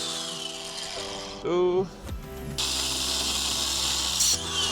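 A power tool cuts steel rebar at a house construction site, a loud close grinding whine that rises, dips and resumes, with a brief voice counting over the machinery.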